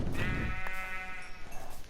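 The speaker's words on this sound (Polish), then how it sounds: "O, mamy dwie owce." A single sheep bleats once in Minecraft, a wavering nasal call with a slightly synthetic quality, over a low background rumble.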